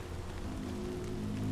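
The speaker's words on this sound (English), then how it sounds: "Rain? I didn't know this game had rain." Steady rain falling in the Saints and Sinners VR video game, a soft continuous hiss of drops on surfaces with a low droning hum beneath.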